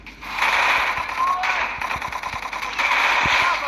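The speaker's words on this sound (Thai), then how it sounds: "เดี๋ยวยิงก่อน" Rapid automatic gunfire rattles in bursts in a four-versus-four ranked online shooting game, with dense, loud weapon fire and game effects while a player talks over it.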